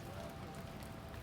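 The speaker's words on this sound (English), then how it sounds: "oh man, it's raining hard." Heavy rain pours down steadily, a dense, unbroken hiss of drops on surfaces, fairly faint and heard alone.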